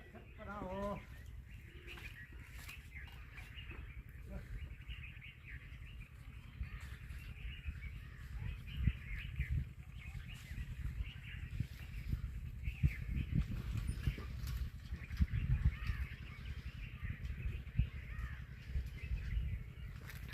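Birds calling around a village pasture where livestock graze, with a koel among them; scattered calls and chirps sound at mid distance over steady low rumble and background noise, with a few crow-like caws.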